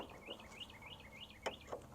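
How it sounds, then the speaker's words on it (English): Outdoors, a bird repeats a series of short, high chirping calls in a steady rhythm, fairly faint and distant over a soft background hiss. "I wonder what that bird's saying"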